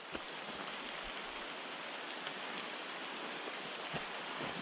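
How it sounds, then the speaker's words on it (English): Steady rain pattering over bushland on a wet-day walk, a dense, even hiss of drops with occasional louder nearby splats, continuous and close throughout. "Out of the rain a little bit."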